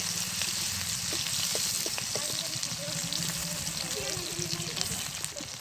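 Onions sizzle steadily in a pan for fish curry, a dense continuous frying hiss with faint scraping and soft background voices underneath.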